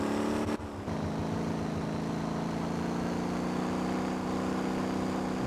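Racing car engine in the video game Motortown, revving hard and holding a steady high drone for the whole stretch after a brief dip near the start, loud and close with no talk.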